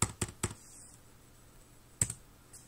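Keys on a computer keyboard tapped while entering numbers into an Excel spreadsheet: a quick burst of three close clicks, a pause, then two more clicks, crisp and near.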